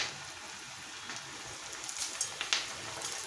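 Onion pakoda batter drops into hot oil heated for deep frying. A steady, close sizzle rises, with a few sharper pops and crackles toward the end, and no one speaks.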